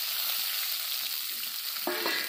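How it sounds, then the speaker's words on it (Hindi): Chopped onion frying in hot oil in a spiced tempering for an Indian fish curry, giving a steady, dense sizzle throughout, with a brief stirring clatter near the end. "फोरन में प्याज डाल देते हैं,"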